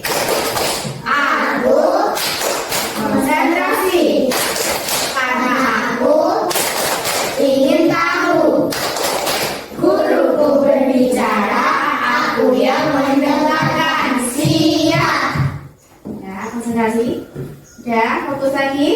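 A class of children performs a clapping chant together, repeated loud clap bursts in rhythmic groups mixed with loud group chanting and an adult voice, close and reverberant.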